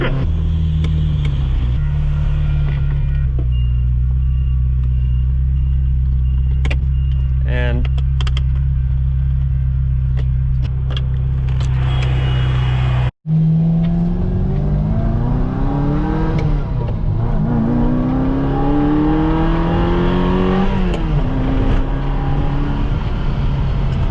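A Ferrari with an aftermarket exhaust drives and revs, a deep bassy engine drone rising and falling through gear changes, loud and close from inside the car, with a brief cut midway and occasional talk.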